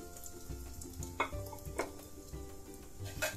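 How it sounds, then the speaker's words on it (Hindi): Egg-coated bread for a crispy cheese bread fries in hot oil, giving a soft continuous sizzle with occasional clinks and scrapes of a utensil in the pan, heard up close without talking. "ये मैंने ऑयल गरम कर लिया था, ये देखिए इसको फ्राई कर लेंगे हम"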